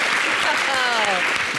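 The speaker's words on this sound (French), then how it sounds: "Oh, mais j'applaudis." Hands clapping in applause during a relaxed TV chat show, a steady dense patter under and alongside talking and laughter for the whole brief stretch.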